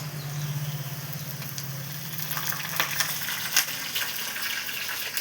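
Seeds sputter and crackle while frying in a pan, giving off a steady sizzle with scattered sharp pops close by, under a low, steady hum.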